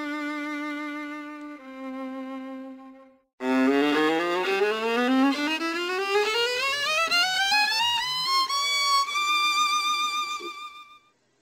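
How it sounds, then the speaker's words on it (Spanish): Solo viola plays sustained bowed notes, then a long rising glissando-like run climbing steadily in pitch, clear and close with no talk. "Ese es el sonido de la viola."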